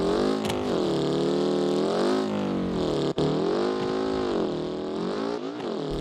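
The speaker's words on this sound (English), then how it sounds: "this buggy is super loud" A loud, buzzy off-road buggy engine in the video game BeamNG.drive drones steadily, its pitch rising and falling as it revs, with a brief cut near the middle.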